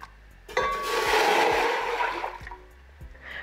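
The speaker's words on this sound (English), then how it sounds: "So go ahead and pour this whole thing in there, right into your pot." Chicken broth pours into a pot in a steady splashing rush of about two seconds, close and fairly loud, with a few clunks before and after.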